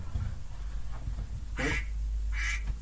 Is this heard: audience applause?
no